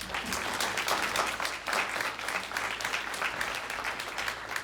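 An audience at a 75th anniversary read-in event claps, a steady, even round of applause heard at a distance and fairly faint, sustained throughout with no voices over it.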